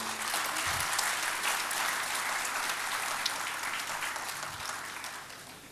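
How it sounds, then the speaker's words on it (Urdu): Audience at an Urdu mushaira in Doha, Qatar applauds to welcome the Indian ambassador as chief guest, a steady dense roar of clapping filling the hall throughout, loud and continuous, fading slightly toward the end. "آپ سے درخواست کرتے ہیں کہ تالیوں سے ان کا استقبال کریں"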